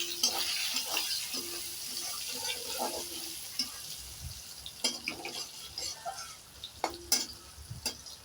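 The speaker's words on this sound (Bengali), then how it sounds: "পেঁয়াজ কুচিটাকে পুরোপুরি ভালোভাবে লাল করে ভেজে নিতে হবে।" Chopped onions and green chillies frying in a pan, a quiet sizzle broken by scattered sharp scraping and stirring clicks from a utensil, close-up and uneven, with a faint voice at times.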